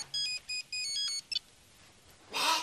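A telephone ringtone plays a few short beeping tone bursts, followed by a brief rustling burst at the end, with no talking.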